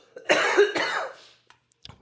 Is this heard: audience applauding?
no